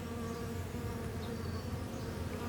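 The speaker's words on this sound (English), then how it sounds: "the bees. They're the bees, and they are coming out." Honey bees pouring out of a freshly opened hive, a dense, steady buzzing hum from many insects heard close and continuous, with no voices.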